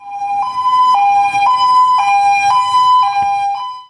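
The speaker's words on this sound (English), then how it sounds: "We already covered the tow trucks, which have a variety of siren sounds they use" Tow truck siren during snow removal in Montreal, a steady two-tone electronic wail that alternates pitch about every half second, loud and close, with low engine rumble beneath and no talking.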